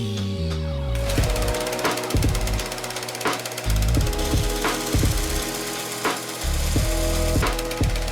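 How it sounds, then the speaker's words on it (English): A bolt head being trimmed down on a Jeep Wrangler YJ axle, 3/8-24 fine-thread hardware, with a loud power tool grinding in repeated bursts, its pitch rising and falling as the motor speeds up and bogs under load. "I just shaved about half the bolt head away on those two"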